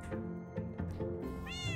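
A cat meows several times in quick succession, close and clear, with short rising cries and a higher drawn-out call near the end, and no talking over it.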